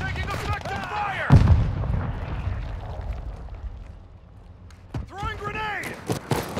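Call of Duty Modern Warfare 2 team deathmatch gunfire: a sharp close burst of shots followed by rumbling echoes, then more crackling rounds and whooshing ricochets near the end, with no voices.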